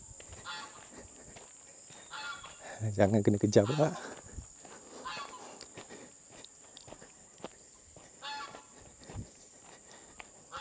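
Geese on a rural orchard plot give a short burst of loud honking cries, fairly close, amid rustling footsteps outdoors, with people talking before and after.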